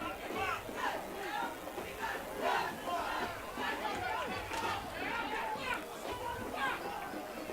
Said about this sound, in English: People in the crowd are screaming, stop the clock.